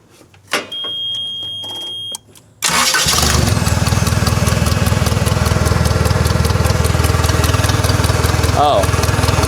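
An old car engine cranks briefly, then catches and runs at a loud, steady idle, close by and continuous.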